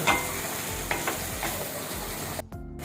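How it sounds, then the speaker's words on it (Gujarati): Whole spices tempering in hot oil in a pan on a home stove, stirred steadily with a spoon, giving a close, continuous sizzle and crackle with scraping strokes. It cuts out abruptly near the end. "5 મિનિટ સુધી આપણે વઘારને આ રીતે આપણે હલાવ્યા કરવાનું છે."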